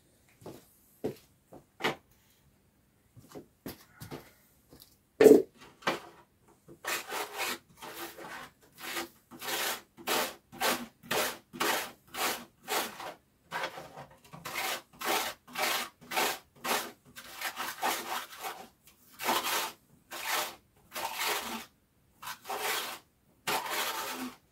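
A brush scrubs a quad bike part, giving rapid bursts of bristly rubbing strokes in a regular back-and-forth rhythm that start sparse and turn dense and steady, close by and alone.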